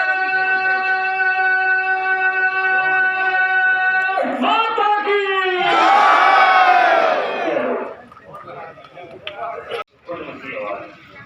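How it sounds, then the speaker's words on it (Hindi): A crowd at an outdoor political rally welcoming a legislator's chariot procession roars and cheers, swelling to a loud peak of shouting before fading into scattered voices; a sustained musical tone plays underneath at the start. "जोरदार ताली के साथ"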